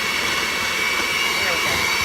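A hand mixer whirs steadily and loudly through light brown sugar being blended for a giant cookie dough, a continuous motor drone with no pause.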